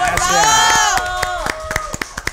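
Studio audience applause welcoming a singer on a TV interview set, sparse sharp claps under a loud voice that fades out, leaving a few separate claps at the end.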